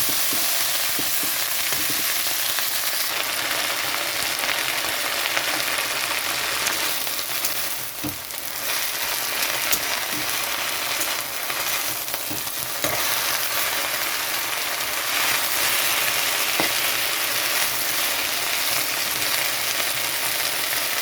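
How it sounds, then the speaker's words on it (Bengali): Kulekhara leaves fry in a pan with a steady, close sizzle that holds for the whole stretch, broken now and then by the light clicks of stirring. "এখানে দিয়ে দিচ্ছি কুলেখাড়ার পাতা, একসঙ্গে দিয়ে এটা ভেজে নিতে হবে একটু।"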